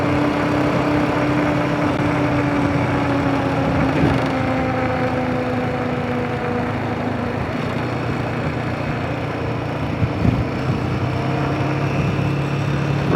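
A Royal Enfield Himalayan 450 motorcycle engine runs steadily on moorland roads, a loud continuous drone with a slowly drifting pitch held close throughout, no talking.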